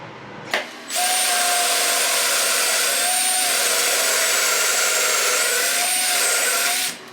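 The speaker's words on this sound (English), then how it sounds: "All right, so I got all my dowel holes cut." A power drill bores dowel holes through a DowelMax jig for cabinet rails, a loud, steady high whine running for about six seconds after a brief click, then cutting off.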